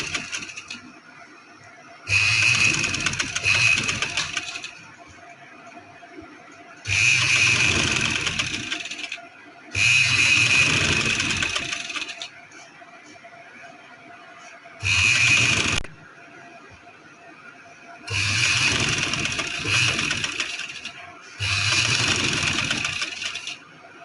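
Electric sewing machine running a straight stitch along a marked line to attach zigzag lace trim onto a salwar, in six separate bursts of steady whirring separated by pauses, close and fairly loud with no talking.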